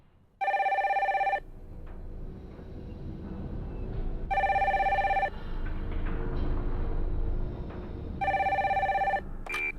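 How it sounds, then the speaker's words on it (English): A home telephone in Royal Oak, Michigan rings in three distinct bursts of a bright, steady electronic tone, each about a second long with quiet pauses between them. "When the phone rang at the Martins' home in Royal Oak, Michigan"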